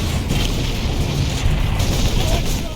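Bolter gunfire in the video game Warhammer 40K Space Marine, a steady loud burst of booming shots that blends into a continuous dense roar for about three seconds, lacking any deep thud.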